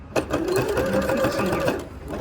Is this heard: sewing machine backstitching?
yes